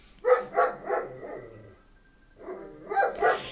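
A pet dog barks and yips in a quick run of three or four sharp calls, pauses, then barks again in another short burst, fairly close and loud indoors.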